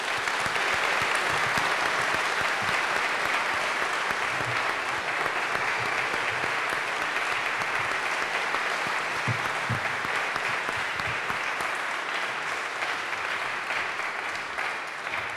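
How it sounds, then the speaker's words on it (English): Sustained audience applause following a debate on marriage, a steady dense clapping that fills the room at even loudness for the whole stretch, with no talk over it. "Please give our speakers one more round of applause."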